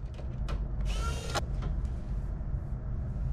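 Plastic cover of a PS5 console being pried and lifted during a repair, a short scraping, rasping slide near the mic followed by a few faint clicks in a quiet room.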